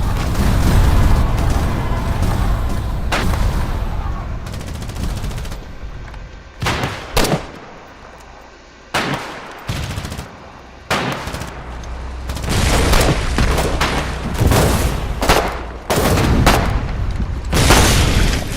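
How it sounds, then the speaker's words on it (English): Incoming artillery and gunfire from the war game Foxhole: heavy booms, rattling bursts and overlapping explosions come in dense waves, loud and close, with brief lulls between barrages. "Incoming artillery!"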